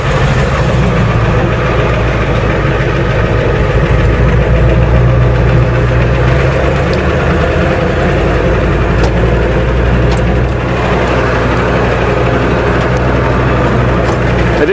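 Ford truck with a manual transmission driving under steady engine load, a loud, continuous mid-pitched drone with rumble and vibration, close up and alone without talk.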